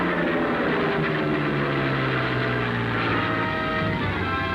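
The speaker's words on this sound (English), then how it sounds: "Contact is made with the low-flying craft." Low-flying propeller aircraft from a 1944 wartime newsreel, a steady loud engine drone with shifting harmonic tones filling the whole stretch, no voices.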